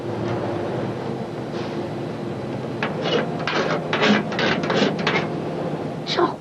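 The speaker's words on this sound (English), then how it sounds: "This mixer really whizzes round, look." A big paint mixer on a telescopic tripod whizzes round through paint powder and orange colour, a steady churning whir with bursts of louder rattling and splashing, close and fairly loud.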